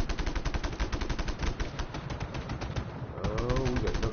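Rapid automatic gunfire in the video game Just Cause 3, dense and continuous bursts of shots with a distant rumble toward the end.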